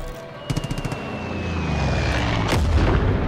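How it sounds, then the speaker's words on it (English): An airstrike bomb run in Far Cry 5: a quick rattling burst of fire, then a swelling rumble and a heavy blast that rolls on as a loud, sustained roar. "I'm seeing the target. Bombs away."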